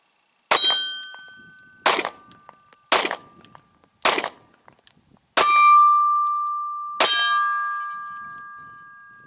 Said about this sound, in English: I'm going to shoot it one-handed in no particular grip, just to show you